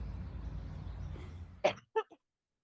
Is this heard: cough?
yes